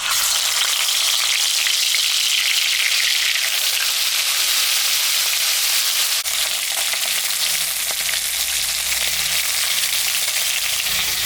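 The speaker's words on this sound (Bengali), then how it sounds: "তেলটা গরম হয়ে গেছে, আমি এখন মাছটা ভাজবো।" Mrigal fish seasoned with salt and turmeric fries in hot oil, giving a loud, steady, dense sizzle that holds unbroken from start to finish with no voices.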